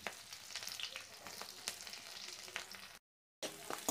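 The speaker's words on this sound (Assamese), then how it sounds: "তেল গৰম হ'লত মই পাঁচফোৰণ দি দিছোঁ ইয়াত মই এয়া কাটি থোৱা পিঁয়াজ জলকীয়াখিনি দি দিছোঁ" Chopped onion and green chili hit hot mustard oil already crackling with five-spice seeds, giving a loud steady sizzle with sharp spits and pops, cut by a brief silent gap near the end before the frying resumes.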